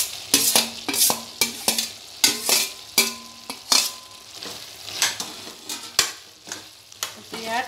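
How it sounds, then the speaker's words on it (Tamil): A spoon stirs capsicum into a sizzling vegetable kadai in a pan, giving repeated rhythmic scrapes and clanks against the metal, close and loud, over a faint frying sizzle. "ஆட் பண்ணி நல்லா கலக்கி கொடுத்துக்கோங்க"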